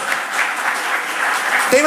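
Church congregation at a Sunday family service clapping for a welcomed visitor, a brief even patter of hands under room noise, with a voice starting at the end.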